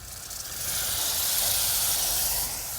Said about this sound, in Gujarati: હવે આપણે છીણેલા ટમેટાં નાખશું